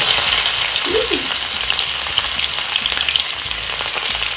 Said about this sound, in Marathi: हे आलं लसूण आणि कढीपत्ता याची फोडणी देतोय